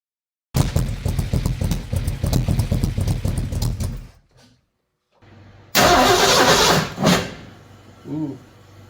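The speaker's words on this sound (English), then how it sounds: "we are firing up the big block in my 78 F-150" A freshly swapped big block 460 V8 in a 1978 Ford F-150 cranks rapidly for about four seconds, goes quiet, then catches with a loud, rough roar that surges briefly before fading out.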